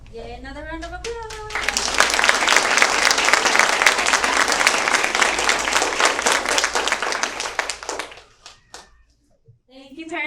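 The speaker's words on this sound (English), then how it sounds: "another round of applause" An audience of parents applauds a second-grade class school play with dense, sustained clapping that lasts several seconds and then fades out. Children's voices are heard just before the clapping begins and again as it ends.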